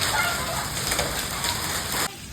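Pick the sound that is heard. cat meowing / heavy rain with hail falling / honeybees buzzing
heavy rain with hail falling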